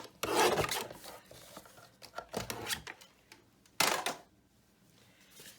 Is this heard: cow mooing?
no